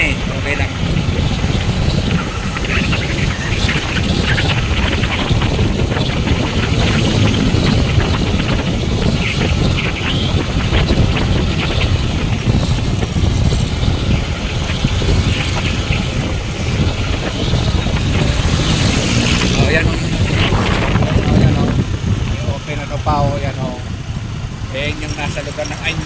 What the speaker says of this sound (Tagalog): mahangin naman okay lang